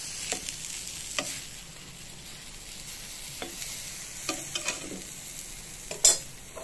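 Eggplant fries in a pan with little or no oil, giving a soft steady sizzle broken by occasional scraping stirs and clicks of a utensil, close and moderately quiet.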